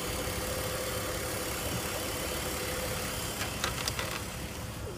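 A BMW E46 engine idles with its radiator fan removed, a faint, steady low hum heard close by, with a few light clicks and taps near the end.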